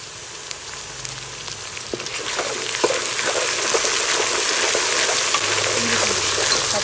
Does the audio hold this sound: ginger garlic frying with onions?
yes